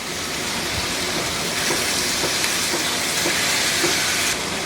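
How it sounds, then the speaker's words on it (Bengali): Bone-in meat frying in a pan with a pinch of salt over a medium-high flame gives a steady, loud, broad sizzling hiss that holds evenly throughout. "হাড্ডি সহ মাংস দিয়ে এর সাথে একটু ভেজে নিব"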